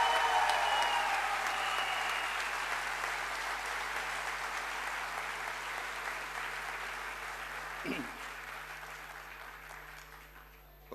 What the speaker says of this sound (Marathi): त्यांच्यासाठी जोरदार टाळ्या झाल्या पाहिजे.